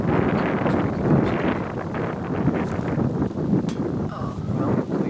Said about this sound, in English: it sounds like it's windy too